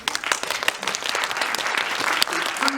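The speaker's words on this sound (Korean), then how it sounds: "감독님의 의향이 맞다고 생각하시면 박수" An audience at a film screening Q&A applauds to cast a vote, a dense burst of many hands clapping close together with crowd murmur that holds steady throughout.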